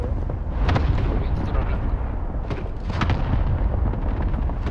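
Gunfire and blasts in the video game Call of Duty: Modern Warfare form a loud, dense, continuous battle roar with sharper cracks, while voices talk over it.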